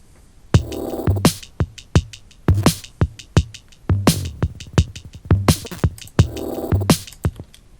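A busy drum loop with kick, snare and bright hi-hats in a steady, slightly irregular pattern, loud and alone with no voices, with a crisp, somewhat odd groove.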